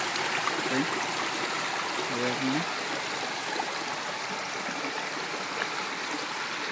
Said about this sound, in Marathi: जरा पाणी जात आहे